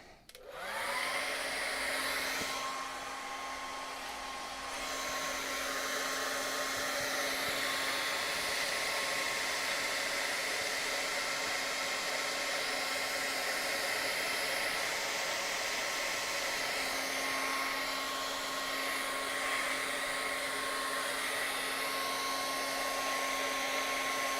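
A hair dryer blows steadily to dry acrylic paint on a snowman painting, a constant whooshing whine that starts within the first second and runs unbroken for over twenty seconds at moderate level.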